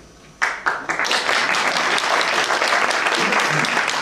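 A concert audience breaks into applause at a 2015 show, starting with a few sharp claps and swelling fast into steady, dense clapping from a large crowd that holds strong throughout.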